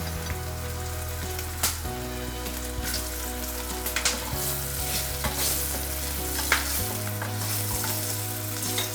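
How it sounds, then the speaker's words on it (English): Spices and potatoes fry in hot smoking oil for shahi parwal, a steady close sizzle with scattered crackles and occasional stirring clinks, no voices. "We'll add all the spices. Add potatoes."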